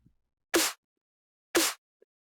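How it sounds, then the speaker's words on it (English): Two sharp, isolated hits of a layered snare drum sample with a small rim shot, crisp and bright with short noisy tails, spaced about a second apart over near silence, fairly quiet. "And then the snare sounds like this."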